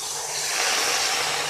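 Water poured into a hot pot holding small crabs makes a brief, loud sizzling hiss of steam, close and alone.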